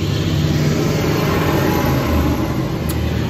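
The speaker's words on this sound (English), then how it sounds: "And here comes a loud truck." A loud truck passes an outdoor flea market, its engine a steady, heavy low rumble that stays strong and close throughout with no other sounds standing out.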